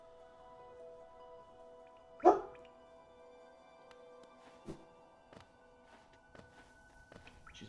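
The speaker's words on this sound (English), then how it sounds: "She's barking at something." A dog barks once sharply at close range, followed by a few faint whimpers and soft yips scattered across an otherwise quiet indoor scene with low steady background hum.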